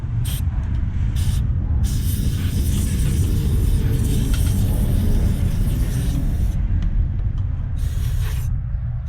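Compressed air at low pressure, about 30 PSI, blasts debris off a Yard Machines tiller outdoors, a loud continuous rushing hiss with low rumble that cuts out briefly in short pauses.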